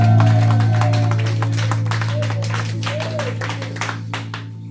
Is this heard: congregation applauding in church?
yes